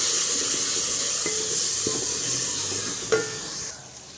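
Water is poured into a pan of frying onion, red chilli powder and turmeric, setting off a loud, steady hiss of sizzling with a few faint clinks of a utensil before it quiets.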